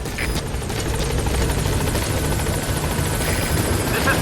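B-Quad helicopter in Metal Gear Solid V: The Phantom Pain approaching a landing zone, a loud, steady rotor chop and turbine drone filling the whole stretch with no talk.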